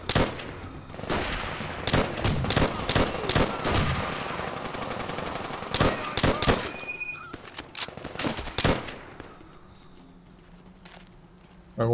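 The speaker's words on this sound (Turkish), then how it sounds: "Ben oradan sapladım ona mermiyi, gördünüz mü?" Call of Duty World at War gunfire, dense loud bursts of automatic fire and single sharp shots in rapid succession, thinning out after several seconds into quieter background.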